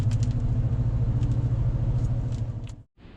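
An off-road vehicle's engine rumbles steadily at close range while shifting into 4 low on a forest road, then briefly cuts out near the end.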